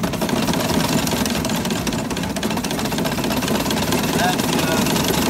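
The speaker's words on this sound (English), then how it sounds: "I'm going to open the throttle a little bit, which is this lever right here, and you can see the engine in action" An 1899 Locomobile steam carriage engine runs steadily with a fast, even mechanical chugging and clatter, loud and close, continuing without a break.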